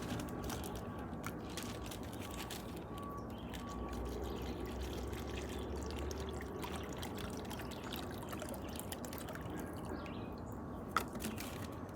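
Water is poured from a container into a ziplock bag hung on paracord outdoors, a soft continuous trickle and splash lasting several seconds, faint and alone.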